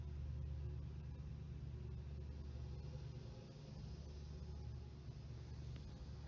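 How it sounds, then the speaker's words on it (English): A truck passes outside in the middle of the night, a faint, steady low engine rumble that swells slightly and fades a little midway, heard from a distance with no voices. "It sound like one of those trucks that you would hear"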